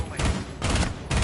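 Gunfire pre-firing an angle in a competitive esports video game match: three short, loud bursts of automatic shots spaced about half a second apart.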